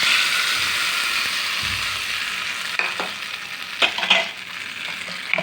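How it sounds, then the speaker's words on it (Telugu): Tempering for peanut chutney crackles in hot oil in a pan. Continuous frying hiss is broken by sharp pops and clicking spatters, growing busier toward the end. "ఇక చట్నీ అయితే పోపు చేసేసుకుంటున్నా"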